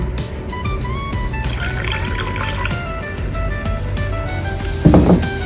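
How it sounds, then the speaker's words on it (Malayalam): Water is poured steadily into a pot of sardine curry, a continuous gurgling fill under background hum, ending with a brief clatter. "കുറച്ചും കൂടി വെള്ളം ചേർക്കാം കേട്ടോ"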